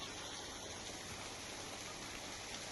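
Rainwater after a heavy downpour streams like a river along the main roads of Sardoi village near Modasa in Aravalli district, a faint, steady, continuous rushing wash with no voices.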